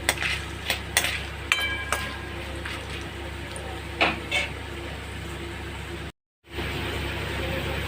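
Peanuts, urad dal and red chillies fry in a pan, giving a continuous crackling sizzle with scattered sharp clinks of a spoon against metal and a brief dropout near the end.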